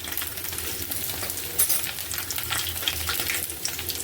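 Mustard seeds and a pinch of asafoetida sizzle and crackle steadily in hot oil for a coconut chutney tempering, with a few sharper pops over a busy frying hiss; no voices.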